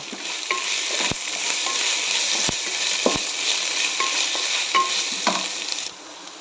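Onions and curry leaves fry in hot oil in a pan, a steady dense sizzle with scattered sharp pops and occasional scraping stirs, close and continuous before it thins out near the end.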